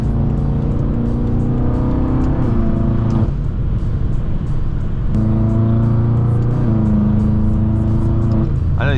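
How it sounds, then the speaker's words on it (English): A tuned 800HP BMW M6 engine drones loudly and steadily on New York City streets, dipping between bursts of acceleration, with faint popping and crackling from the exhaust when the throttle lifts. "when I let off the gas in between the cuts, I just hear the pop, pop, pop"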